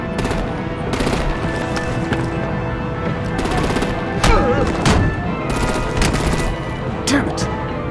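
Gunfire rakes vehicles in Batman: The Enemy Within, with loud rapid bursts, heavy thumps and impacts in a dense action mix.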